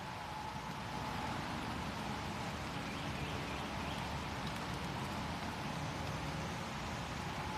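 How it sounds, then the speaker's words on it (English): Steady rain drums on a tent beneath a canopy during a squall, a dense continuous hiss with no breaks, loud and close throughout. "That sounds like a decent amount of rain."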